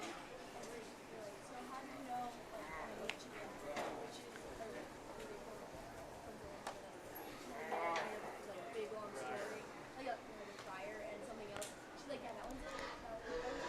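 Goats at a county fair livestock showmanship event bleat repeatedly over a busy, noisy barn crowd with steady chatter, the calls coming in short bursts at moderate distance.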